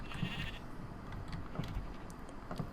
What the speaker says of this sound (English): There we go, there's a sheep.